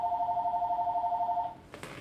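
A telephone rings with a steady warbling electronic tone for about a second and a half, then stops abruptly, followed by a brief rustle.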